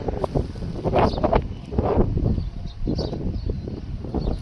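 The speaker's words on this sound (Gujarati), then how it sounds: "એકદમ સુંદર મજાની હવા આવે છે" Wind blows across a farm, gusting and buffeting the microphone in uneven rushes that rise and fall, with no one talking.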